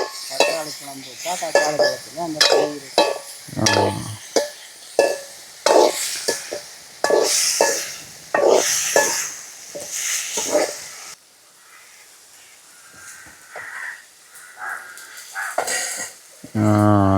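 Tomatoes for a squid curry sizzle in a pan on a village cooking fire while a utensil stirs and scrapes repeatedly. Voices talk now and then over the frying.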